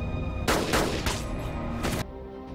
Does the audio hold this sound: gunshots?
yes